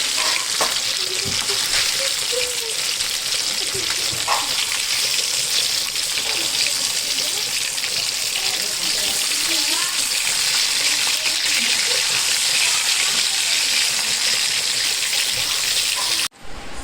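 Fish sizzling and crackling in hot oil in a pan for a Madurai-style fish fry, a loud, continuous frying hiss with occasional pops and stirring, mostly free of talk.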